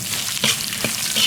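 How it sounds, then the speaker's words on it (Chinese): Scallion, ginger and dried chili hitting hot rendered pork fat in a wok, giving a loud, close, steady sizzle with brief bursts of spattering as the pieces are stirred. "肥肉上的油煸出来以后，下入葱姜、干辣椒"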